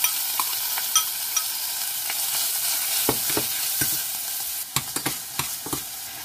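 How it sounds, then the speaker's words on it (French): Beef and shallot sautéing in a pan, a steady sizzle broken by scattered scraping and stirring knocks, the clatter growing denser toward the end. "Et voilà, on saute la viande."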